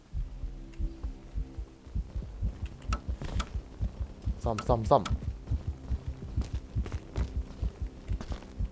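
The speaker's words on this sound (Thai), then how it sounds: "ได้ยินแต่เสียงหัวใจแต่ไม่เห็นมัน" A looping heartbeat in the Roblox game Escape the Darkness thumps in a steady, low double-pulse rhythm throughout, while a player briefly talks over it midway.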